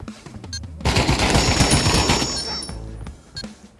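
Automatic gunfire in the VR shooter game Pavlov, a loud, rapid burst of close shots lasting about two seconds, followed by a couple of fainter single pops, with no speech.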